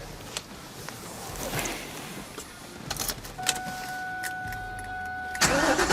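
A 2003 Ford Mustang Mach 1 engine cranks through several seconds of mechanical whirring and clicks, then fires at the end with a louder burst.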